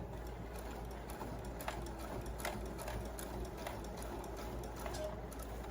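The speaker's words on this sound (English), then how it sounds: "you're just going to start sewing the ruffle onto the glove. And I just use a normal straight stitch for this" Sewing machine running a normal straight stitch as a ruffle is sewn onto an opera-length glove, a steady close whirring hum with rapid needle clatter throughout.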